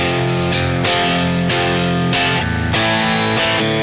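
Guitar strums the chorus of a song, with steady, full chords that change every half second or so and play without pause or voices.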